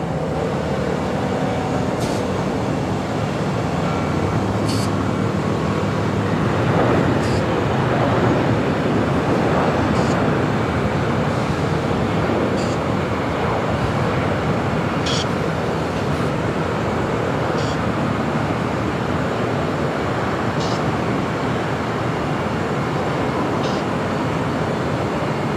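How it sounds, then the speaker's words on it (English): A Korean Air Airbus A350-900 arriving at LAX produces a broad, steady roar that swells through the middle, heard from a distance over continuous ambient wash with faint intermittent high ticks. "We'll pick up the Korean Air Flight 810 coming up from Nandi and this A350-900."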